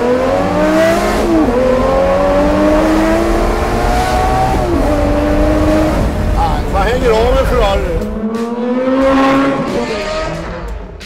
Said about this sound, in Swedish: Du kör en Porsche 911 Turbo, kan du berätta lite om den? 997 Turbo, ja. Lite trimmad, 550 hästar